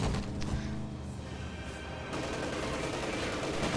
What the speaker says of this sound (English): Contact! Enemy fire!